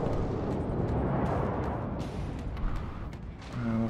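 Submarine torpedoes launching in the World of Warships video game, a loud dense rumbling whoosh of heavy bursts that tapers off, followed by a short tonal beep.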